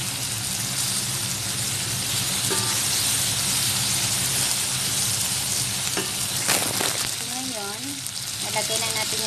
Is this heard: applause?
no